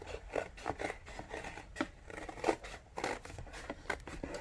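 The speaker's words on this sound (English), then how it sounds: "Cut following the line." Scissors snip paper along a drawn line during a children's craft activity, a quiet run of irregular short cuts close by with no talk.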